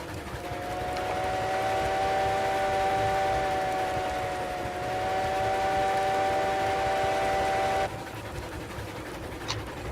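Steam locomotive whistle from the Railroads Online video game holds a long, steady multi-tone chord for about eight seconds, loud and even with a brief dip midway, then cuts off abruptly over a low rumbling background.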